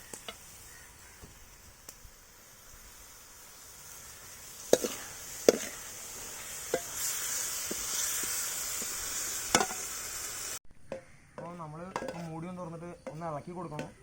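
Kanthari chicken curry stirred in a pan, with scattered scrapes and clinks of a spoon against the pan over a steady low sizzle, a few sharper knocks standing out, then a voice talking near the end.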